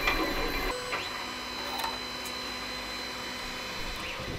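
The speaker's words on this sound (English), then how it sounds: "it's literally printing all over itself" A JGaurora A5 3D printer running a print job with its nozzle hopping too high between layers, giving a steady mechanical whir with faint clicks and stepper tones, close and continuous with no talk.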